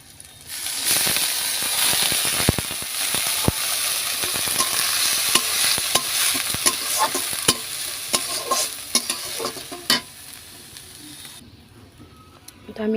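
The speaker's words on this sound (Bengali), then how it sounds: "এখন দিয়ে দেব মসুরের ডাল আমি" Masoor lentils tipped into a hot pan and stirred, a loud crackling sizzle with repeated scraping clicks that trails off near the end.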